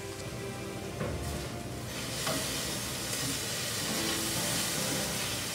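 Onions and garlic sautéing in a pan, a steady close crackling sizzle with hissing steam and occasional sharper pops, no voices over it.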